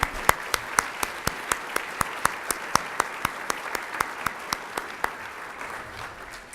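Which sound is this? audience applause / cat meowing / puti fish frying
audience applause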